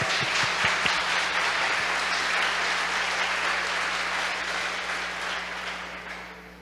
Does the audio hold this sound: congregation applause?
yes